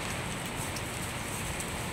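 Steady rain falls on a surface during a rainy day, a continuous broadband hiss of drops with no pauses, moderately loud and close, with no voices.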